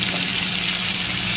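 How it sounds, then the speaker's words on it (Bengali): Sliced potatoes fry in a pan of hot oil, giving a steady, close, bright sizzle that lasts just over a second with no voices. "আলুগুলোকেও কিন্তু বন্ধুরা সুন্দর করে ভাজতে হবে"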